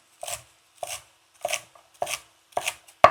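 Coarse chopping of celery, carrot and onion on a board in a kitchen preparing a lobster dish, six evenly spaced firm knife strikes, close and clear, with no talking.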